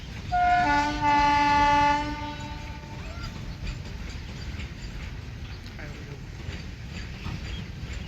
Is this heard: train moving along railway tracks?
yes